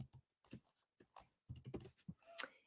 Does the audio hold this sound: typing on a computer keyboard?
yes